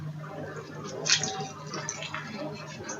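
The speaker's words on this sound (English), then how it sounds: "I'm gonna add some more water." Water is poured into a pot while pounded yam is being made on a stovetop, a soft, steady trickling and splashing heard close by and fairly quiet.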